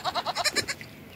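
A short, close bleat from a young goat on a farm, a wavering, pulsing cry, rising then trailing off, heard alone.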